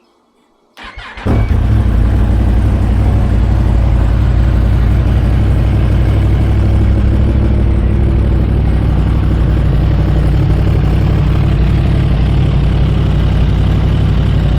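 A Yamaha MT10 motorcycle fitted with a Pipewerx R11 carbon underslung exhaust fires up after a brief silence and settles into a loud, steady, deep idle that runs unbroken for the rest of the stretch, close by with no talking.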